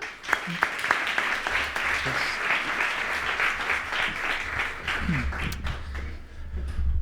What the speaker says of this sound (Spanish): Pedro Bermejo, un fuerte aplauso.